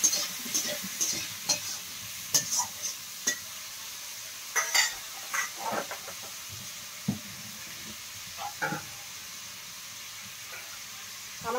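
Fish curry with potatoes, salt and turmeric stirred in a pan, a steady sizzle broken by repeated sharp scrapes and clinks of the spoon against the metal, close and fairly loud, with no voices.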